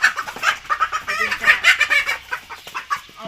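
Chickens clucking close by in a busy, overlapping flurry of short calls, with a few longer squawks mixed in.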